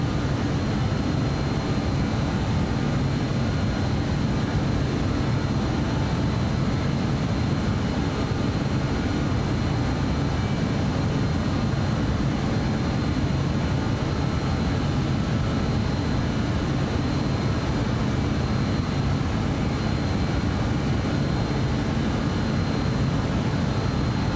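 An airplane engine in Microsoft Flight Simulator 2024 powering up as the aircraft accelerates to a 210-knot climb speed, a loud, steady, broadband roar that holds constant throughout.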